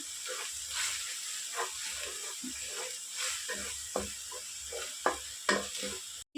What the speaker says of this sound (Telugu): మనం మసాలాని ఫ్రై చేసుకున్నాము